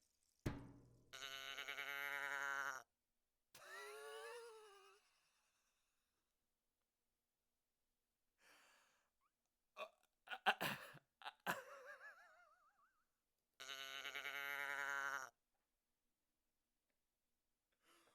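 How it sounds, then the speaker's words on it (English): A goat bleat sample from a studio brush drum kit plays near and loud, repeating in drawn-out bleats with silent gaps, and a few short, scattered sounds fall between them. "Why is there a sample of a goat in the studio brush kit?"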